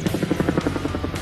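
A military helicopter of the Vietnam War era thunders close by, its rotor blades chopping in a fast, even pulse for just over a second.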